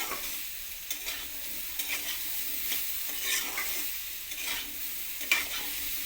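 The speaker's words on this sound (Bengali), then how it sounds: "পেঁপে আলুর সঙ্গে গুঁড়ো মশলাগুলো দিয়ে ভেজে নিয়েছি" Papaya and potato are stir-fried with ground spices in a pan: continuous sizzling with repeated scraping, stirring strokes at a steady rhythm, close and clear with no talk.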